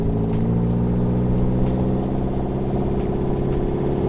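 A McLaren 650S drives on a test run in normal and handling mode, its engine giving a steady, loud, continuous drone and rumble close to the cabin with faint ticks above it.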